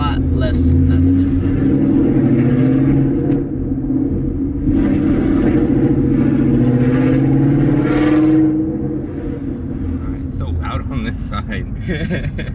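A 700 HP Procharged Mustang GT with a manual gearbox driving along, its engine a steady loud low rumble that swells and eases through gear changes, with people talking inside the car throughout.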